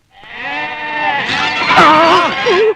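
Goats bleat loudly and close up, several wavering cries overlapping one another without pause across the whole stretch.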